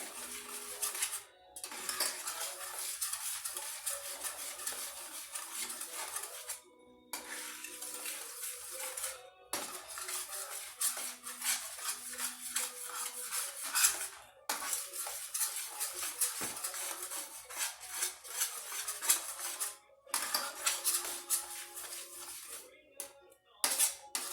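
Denver-style scrambled eggs are stirred in a pan, with repeated close clinks and scrapes of a utensil against the metal in irregular bursts separated by short pauses.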